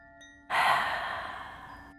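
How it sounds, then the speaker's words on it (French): A deep breath during a hatha yoga side stretch in the crescent pose, heard as one close, long airy exhale or sigh that starts abruptly and fades over a second and a half above a faint steady tone. "Prendre quelques grandes respirations ici."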